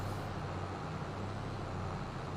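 Steady low engine drone of a tractor driving along in Farming Simulator 22, a constant dense rumble with no variation over the short stretch.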